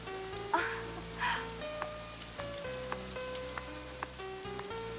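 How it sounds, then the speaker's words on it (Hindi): Heavy rain pours down in a movie scene, a continuous soft hiss beneath held musical notes, broken by a few short splashy bursts and faint clicks. "इतनी बारिश में यहाँ कैसे?"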